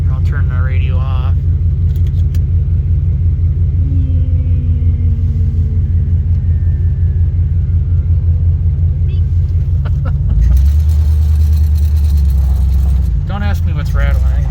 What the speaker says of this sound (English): there's just lots of things rattling in here